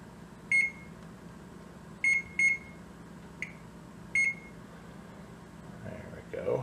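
A series of short electronic timer beeps, two quick pairs and two single beeps, spaced irregularly over a quiet room hum, with soft rustling near the end.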